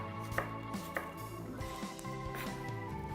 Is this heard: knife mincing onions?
yes